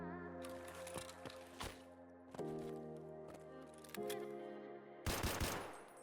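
Rifle gunshots in Escape From Tarkov, a few sharp cracks fired one after another over a steady droning game ambience, with a louder burst near the end.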